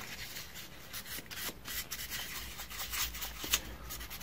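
Fine 1200-grit sandpaper rubbed over a rear drum brake on a first-generation Honda Prelude; a steady, close, raspy scrubbing in repeated strokes with one sharper scrape near the end, no talking.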